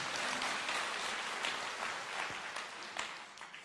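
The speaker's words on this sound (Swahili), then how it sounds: "Situmpigia rais makofi." A church congregation in Kiambu, Kenya applauds the president with a dense, continuous wash of clapping from many hands. It sounds fairly distant and stays even, with no voices standing out.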